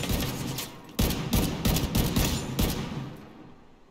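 Gunfire from The Division 2 erupts in several heavy bursts over a dense roaring din, with sharp rapid shots clustered in the middle before the noise thins and fades out; no voice.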